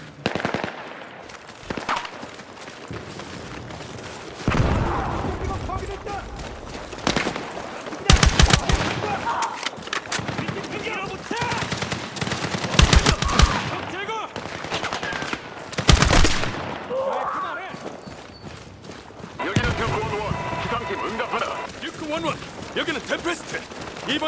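Rapid machine-gun bursts and single gunshots ring out in the video game Battlefield 6, loud and repeated in uneven volleys over a steady battlefield din, with shouted voices between the shots.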